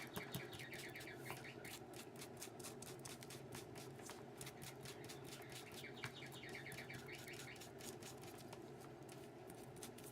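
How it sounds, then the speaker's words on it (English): A bird-call wall clock chimes the hour with rapid repeated chirps and tweets, very faint and steady across the whole stretch, with no talking. "3 o'clock, there goes that chirping bird on my clock"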